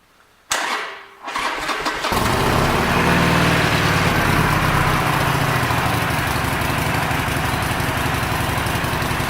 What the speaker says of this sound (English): This one might have the baffles drilled out of it. Got a little deeper rumble than normal.